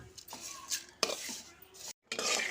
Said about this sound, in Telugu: అటుకులు స్నాక్స్ కొరకు అటుకులు వేపుతున్నా